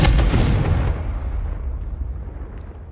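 A Confringo blasting spell exploding in Hogwarts Legacy: a loud, deep booming burst that rolls away into a long, fading rumble.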